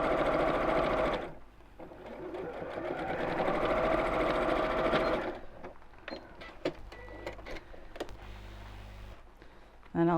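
Sewing machine stitches a straight seam across folded tote bag fabric in two bursts, a steady whirring run followed by shorter stop-start stitching with faint handling sounds.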